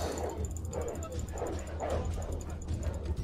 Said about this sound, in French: Une espèce de chien là, voilà, c'est ça.